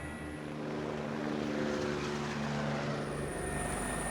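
A gendarmerie helicopter flying over a town for aerial photography, its engine and rotor drone steady and loud throughout, with strong low harmonic tones and a broadband rush that swells slightly midway.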